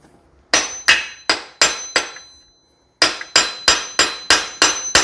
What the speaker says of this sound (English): I'm not hitting it super hard, just little taps.